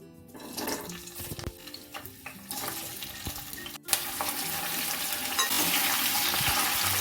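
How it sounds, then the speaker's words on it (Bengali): Vegetables and soybean chunks frying in white oil in a wok over a high gas flame, with a steady hiss that swells louder in the second half, a few sharp clatters and stirring knocks, and no talk. "সবজিগুলো ভেজে নেব হালকা করে সয়াবিনগুলোও ভেজে নেব"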